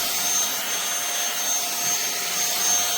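Iirios cordless 550W vacuum cleaner running over carpet, a steady high-pitched motor whine with airy suction noise, close and continuous throughout with no talk.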